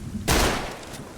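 A single loud, close gunshot in ARMA III gives a sharp crack, then a short fading echo.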